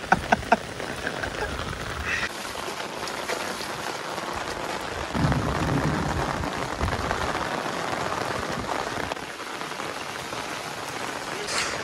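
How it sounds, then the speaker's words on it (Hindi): Steady rain pours down outdoors during the monsoon, a dense continuous hiss of drops hitting surfaces and running off, with a brief louder surge midway and no talking. "बारिश का मजा तो भीगने में है"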